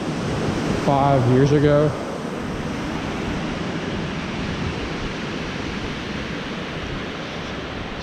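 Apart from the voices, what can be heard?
waterfall at a dam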